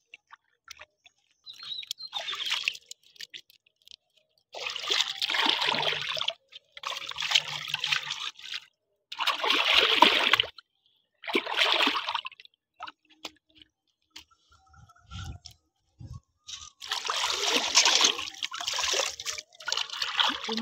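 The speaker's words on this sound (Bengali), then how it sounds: "পুকুরের জল দিয়ে ধুলে ভালোভাবে মাছগুলো ধোয়া যাবে।" Rupchanda fish being rinsed by hand in pond water, with bursts of splashing and trickling coming in separate washes broken by short quiet gaps, close and moderately loud.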